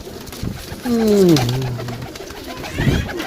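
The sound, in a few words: pigeons cooing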